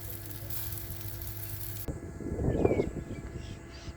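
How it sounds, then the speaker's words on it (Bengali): Chicken sizzles on a barbecue grill outdoors in Botswana, a close, steady crackling hiss that swells suddenly after a quieter stretch of background noise and keeps bubbling with small pops. "বারবিকিউ হয়ে গিয়েছে সসেজ আমরা অলরেডি খেয়ে ফেলেছি এখন দেখি চিকেনটা হচ্ছে"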